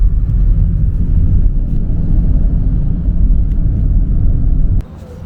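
Interior of a Grab car riding toward Melaka Sentral, a loud, steady low road rumble and engine drone that cuts off abruptly near the end, leaving a quiet cabin.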